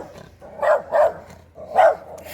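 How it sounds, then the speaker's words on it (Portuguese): Angry little dog barking, three sharp barks in a quick pair then a single one, close and fairly loud with no talk. "Olha o cachorrinho brabo."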